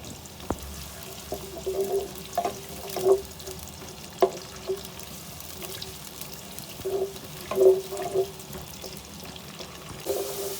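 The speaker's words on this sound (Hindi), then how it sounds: "थोड़ी सी प्याज इसको फ्राई कर लेते हैं हम।" Onions fry gently in about half a cup of hot oil in a pan for a dhaba-style keema, giving a soft, low sizzle under intermittent clinks and scrapes of a stirring spoon, with no talking.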